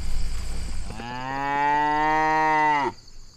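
A dairy cow lets out one long, loud moo close by on an old farm, steady and drawn out for about two seconds before cutting off, with quiet outdoor background on either side.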